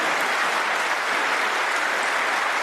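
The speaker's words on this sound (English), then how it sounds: "Well, the cheering is for Carter" A snooker crowd at a professional tournament applauds steadily and loudly, a dense continuous wash of clapping throughout with no talk over it.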